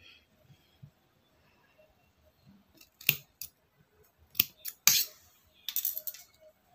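Scissors snip thread on a saree tassel, sounding as a few sharp, crisp metallic clicks scattered among faint rustling, close and otherwise quiet.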